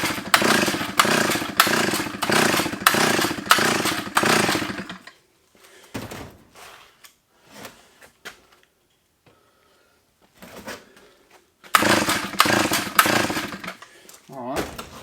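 A 45-year-old Solo 660 AV chainsaw, rescued from the tip and under repair, roars loudly at close range with choke on, then cuts out, sputters through a few weak pulls and catches again to a loud run.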